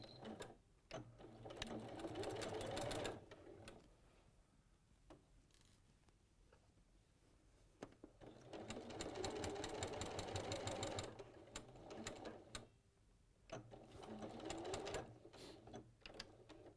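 Domestic sewing machine stitching a small fabric tab through several thick layers for a Rondelle bag, running in steady bursts with short pauses between, fairly close and clear, no talking.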